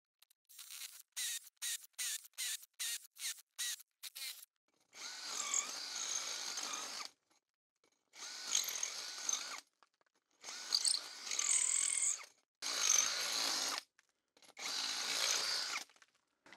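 A power drill with a step bit drills through metal, first a rapid series of short trigger bursts, then several longer whirring runs separated by pauses, fairly close and loud.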